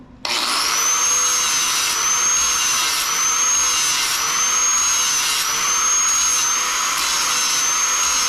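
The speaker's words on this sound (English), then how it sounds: "I'm gonna grind out this porosity here first" A grinder cuts porosity out of a weld during a four-way splitter repair, giving a loud, steady high-pitched whine with slight wavering pitch that runs continuously, close up, with no talking.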